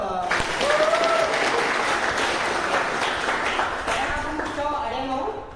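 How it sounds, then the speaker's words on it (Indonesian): An indoor audience at a talk on self-compassion gives a burst of applause, dense and sustained clapping that tapers off near the end, with a few voices and cheers mixed in. "Oke, kasih tepuk tangan dong."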